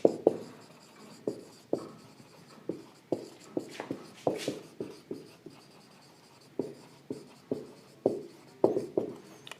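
Chalk or marker writing on a classroom board during a biology lecture, a steady run of short strokes and taps, fairly close and repeating in irregular bursts for several seconds, with no voices.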